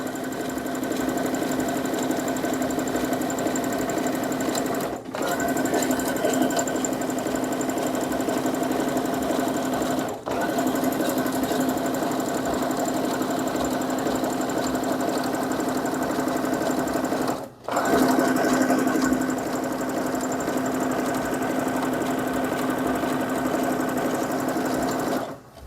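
Overlock sewing machine stitching fabric for a shopping bag, a steady close whirring run that pauses briefly three times before starting up again, with no talking.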